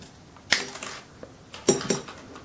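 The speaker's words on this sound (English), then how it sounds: "Cut off the wire." Two crisp metallic snips from cutters clipping jewelry wire for a wire-wrapped stone pendant, each a sharp close click with a faint scrape after.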